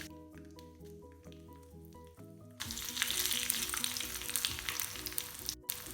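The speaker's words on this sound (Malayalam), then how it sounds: "കടുക് പൊട്ടി തുടങ്ങുമ്പോൾ നമുക്ക് ഒരു 4 പച്ചമുളക് പൊട്ടിച്ചിട്ട് കൊടുക്കാം" Mustard seeds in hot oil give a soft crackle before green chillies are dropped in, setting off a sudden, louder, steady sizzle close by that continues to the end; no one speaks.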